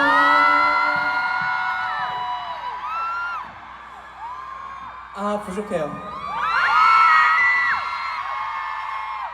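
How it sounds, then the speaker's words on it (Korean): Concert crowd at a show screaming and cheering loudly in two big swells, high shrieks and whoops from many voices, with a brief dip in the middle where someone speaks over the noise. "여러분들의 함성 소리가 필요할 때입니다"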